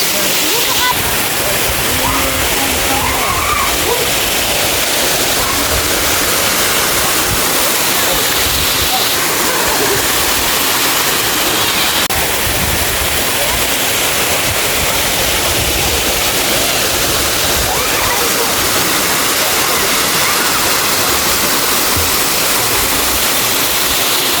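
Daranak Falls in Tanay, Rizal roars continuously, a loud, dense, unbroken rush of falling water that fills the whole scene from start to finish, with voices faintly under it.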